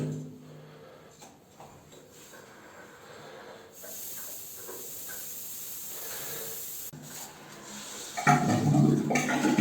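Water rushes through central-heating radiator plumbing during a flush with the tap open, a steady hissing flow that swells louder and rougher near the end, with no talk.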